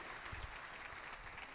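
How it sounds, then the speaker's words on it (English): A crowd applauds steadily in a hall at a Bible and ministry training centre as a speaker comes up to the stage; the clapping is dense and sustained, with no talk over it. "let's give him a big round of applause as he comes up stage"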